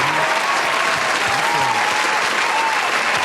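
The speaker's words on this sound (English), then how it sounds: "I need a round of applause for that" A studio audience breaks into steady, loud applause at a world title celebration, a dense wash of clapping that carries on without pause.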